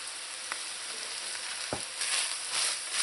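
Onions and ground meat frying in a pan for a lasagna meat sauce, a steady close sizzle with occasional light stirring scrapes and no talking.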